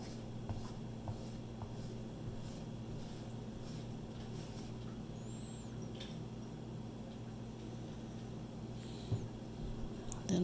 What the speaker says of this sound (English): I scrape it all in to the middle